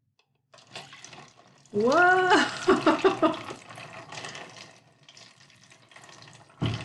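Water pours through a cup with holes punched in its bottom to imitate rain in a grade-school science lesson, a splashing rush that starts loud, then thins to lighter pattering; a child exclaims over it.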